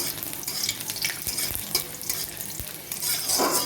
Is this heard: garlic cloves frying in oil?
yes